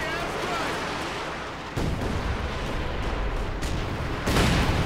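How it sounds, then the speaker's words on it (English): A strafing run in Company of Heroes 2 during a 3v3 battle on the Rzhev Winter map, a continuous rumble of gunfire and booming explosions that swells louder partway through, dense and roaring. "No, it is a strafing run."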